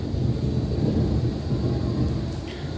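Deep rolling thunder during heavy rain, a brief low rumble swelling and fading over a steady hiss of rainfall, heard from indoors.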